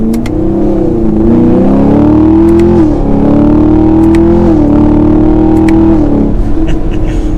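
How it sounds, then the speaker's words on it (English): A 2021 Chevrolet Camaro 2SS 1LE with an automatic transmission pulls hard from first gear, its loud, close engine roar rising in pitch and dipping briefly at each of several upshifts. "So we'll do a little bit of an acceleration now from first gear, get up to speed."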